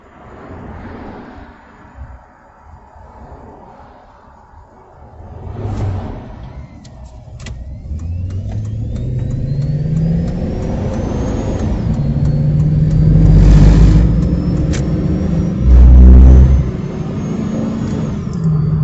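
A car driving in a long line of traffic near Fallon, Nevada, with a steady engine and road drone that swells and eases as it creeps and accelerates, a few low thumps standing out, and no talking.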